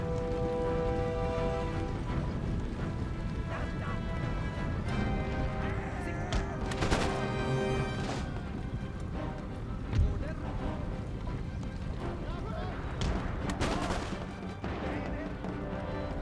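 Battle in Total War: Empire with troops firing, a continuous dense rumble of musketry and cannon. Occasional louder cracks and horse sounds sit within the din, and speech runs over it.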